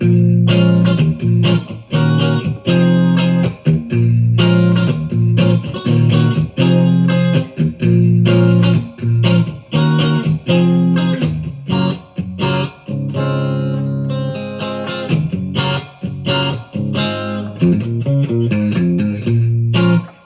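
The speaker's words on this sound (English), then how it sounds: "Your in between the Strat and the Tele sounds like this." Reverend Eastsider S T-style electric guitar on the in-between Strat-Tele pickup position, played alone, bright and slightly twangy, with rhythmic strummed chords and short melodic runs, clean and fairly loud throughout.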